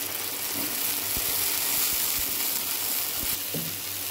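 Garlic ginger paste frying in oil with golden onions for a Punjabi stuffed tinda dish, giving a steady close sizzle with a few stirring scrapes and clinks throughout.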